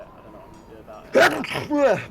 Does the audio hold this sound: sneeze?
yes